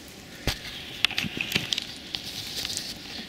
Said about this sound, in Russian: Костер.